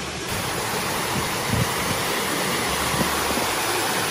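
Steady broadband roar of the Fokir Murong waterfall in Kaptai, constant and enveloping with no pauses and no voices, rushing water filling the whole clip.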